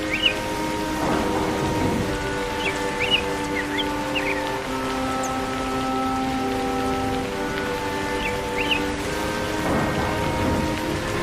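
Steady rain pours down throughout a cartoon scene, with rolling thunder swelling twice, near the start and again near the end, and a few faint bird chirps over the downpour; no one speaks.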